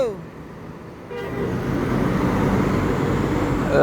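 Bus convoy on a road, with a horn toot at the start and then a swelling rumble of heavy engines and tyre noise as the vehicles pass close by, growing louder toward the end.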